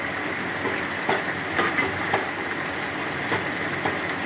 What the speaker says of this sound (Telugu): చికెన్ కూడా ఉడికిపోయింది మంచిగా